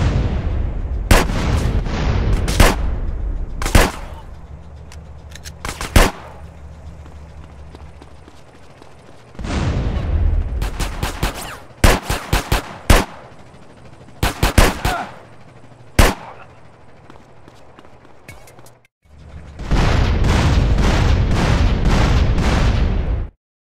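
Loud gunfire fills a GTA San Andreas video game scene: sharp single shots and rapid volleys in clusters, broken by stretches of steady rumbling engine-like noise, with no talk.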